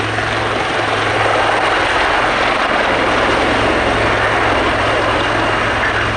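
A helicopter roars steadily and loudly with a deep rotor thrum during a flying display at Yeovilton International Air Day 2016, flying rearward in formation, holding close and constant throughout.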